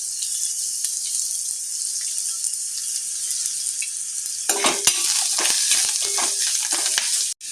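Soaked puffed rice mixed with coriander, turmeric and salt is stirred in a pan over a steady hiss, with close, uneven scraping and tossing of the mixture in the second half.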